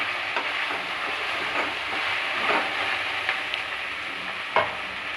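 Okra frying in a pan with masala and salt, a steady close sizzle with soft scraping stirs and occasional brief utensil knocks against the pan throughout.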